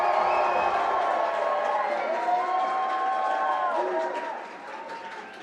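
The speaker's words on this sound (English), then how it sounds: "We can see that people are cheering here" Crowd cheering and applauding at a video game festival award ceremony, a sustained roar of clapping and whoops that fades slightly near the end.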